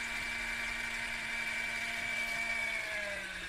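A small mini washing machine spins with a steady, strained motor whine and hum that keeps going without a break, its pitch dropping slightly toward the end. The machine is running with rags inside and no voices can be heard.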